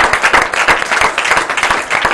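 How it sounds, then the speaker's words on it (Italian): A television studio audience on an amateur sports show gives close, loud applause, with individual claps audible in a brisk, uneven rhythm through a short two-second burst. "applausi a voi ragazzi perché ve lo siete meritato"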